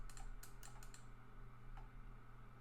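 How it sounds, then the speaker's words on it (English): Computer keyboard typed with one hand during bus-simulator map development: a quick burst of light key clicks early on, then sparse single taps, over a steady low electrical hum. "It takes quite a while to type with only one hand in use for typing."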